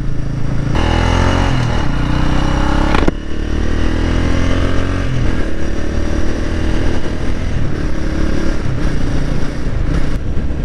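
A 2019 Genuine G400C cafe racer motorcycle cruising steadily at about 45 mph, its engine droning loud and close throughout, with some wind noise and a brief shift-like dip near three seconds.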